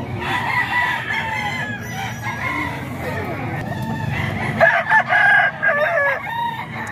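Roosters crow at a gamefowl stall, several drawn-out crows with clucking among them, fairly close, with people chatting in the background throughout.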